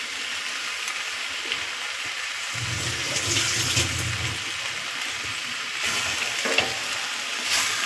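Fried spice paste being stirred into a simmering curry of cabbage, potato and katla fish head, with a steady close sizzle and wet stirring that swells in a few bursts, no talking.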